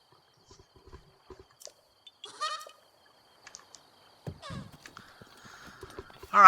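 Horse hooves clop in a sparse, irregular pattern in The Legend of Zelda's Southeast Hyrule Field, with scattered soft game sounds and a louder burst at the end.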